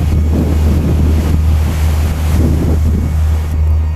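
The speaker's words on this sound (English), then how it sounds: "The wind is that bloody strong, it feels like they're getting ripped off my face" Strong wind buffets a cyclist riding from John O'Groats to Land's End, producing a loud, steady roar of microphone wind noise with heavy low rumble and gusty fluctuations, no speech.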